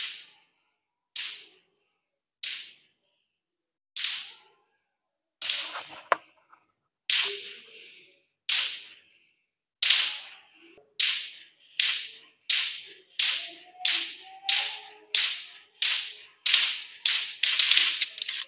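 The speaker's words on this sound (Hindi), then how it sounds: "तो अब हम गोली चला के देखते हैं।" Sharp video game gunshots, first spaced single shots, then quickening into rapid, evenly repeated fire, crisp and close with no talking, heard through gaming earbuds.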